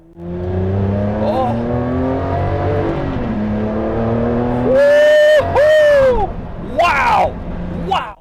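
A Maserati MC12 supercar accelerates hard, its engine note climbing through rising revs, then dipping at sharp gear changes before pulling up again, loud and close throughout.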